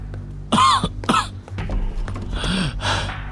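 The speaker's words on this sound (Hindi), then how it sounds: "उसकी खांसी से मैं खौफजदा हो गया।" A man in a hospital-bed drama coughs in harsh, hacking bursts, two strong fits followed by weaker, breathy coughs and gasps, close and alone without speech.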